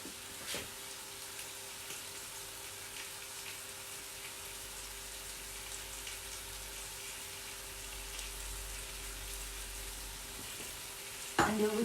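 Chicken breast frying in a pan, seasoned with salt and black pepper for an orange and Grand Marnier dish, with a steady close sizzle and a few clatters near the start and end.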